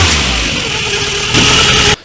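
A Volkswagen Scirocco engine, running after years abandoned, idles loud and close with a steady mid-pitched drone, picks up briefly with a slight rev, then cuts off abruptly.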